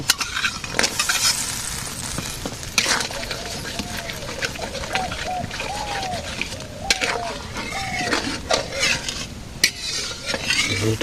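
Fish frying in a pan with garlic and cumin paste makes a continuous sizzle with clattering stirs and utensil scrapes, while a voice talks over the cooking.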